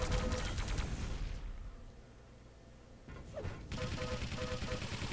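A machine gun firing in a multiplayer video game match: a loud, dense rattling burst, then a brief quieter lull, then sustained rapid fire resuming.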